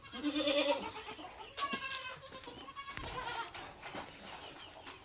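Several young goat kids bleat in a series of high, wavering cries, close by during deworming, with a few overlapping calls and faint background chirps.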